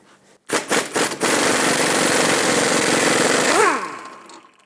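Inner tie rod mounting nut removed on a Chrysler 300 with a power tool: a few short bursts, then a loud continuous whirring drone for about three seconds that winds down.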